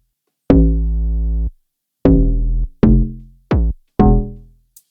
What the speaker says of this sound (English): This sound, this is also a log drum.